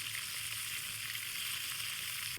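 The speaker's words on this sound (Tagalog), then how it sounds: "Ngayon, pritohin natin yung binabad natin kanina na isda." Marinated fish frying in hot ghee, a loud, steady, close-up sizzle with constant crackling that carries on evenly throughout.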